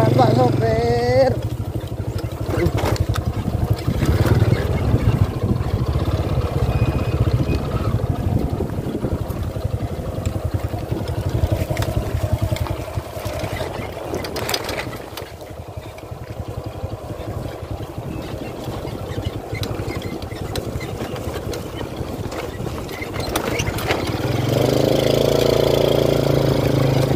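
A boat engine drones steadily on the way to a quiet island fishing spot, a loud continuous rumble with some knocking texture, easing somewhat mid-way before swelling again, with occasional voices over it.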